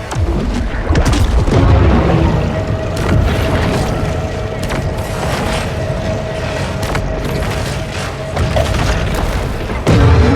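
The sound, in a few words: torpedo explosions in the Maneater video game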